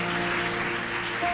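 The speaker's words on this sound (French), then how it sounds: "Si tu vas applaudir, tu applaudis." A church congregation at a Christmas Day Sunday service applauds in a short burst of clapping, with steady tonal sound beneath it.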